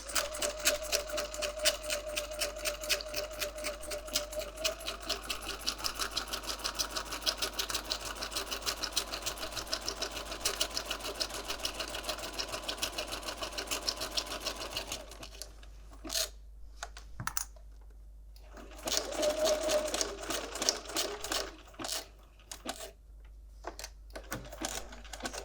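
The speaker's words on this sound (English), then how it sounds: "I always hold my threads at the back here when I start to sew" A sewing machine with heavy thread stitches a vellum junk journal page in a fast, steady mechanical patter, then breaks into short start-stop bursts separated by silences near the end.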